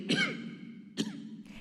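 A man coughs at a podium during an hour-long speech in southern China: two short, throaty bursts about a second apart, close but fairly quiet, followed by a fainter breathy trace.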